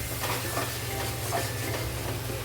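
Masala spice paste stirred and fried in a pan with a splash of water for paneer pulao, a steady close sizzle with rhythmic scraping strokes of the spoon against the pan.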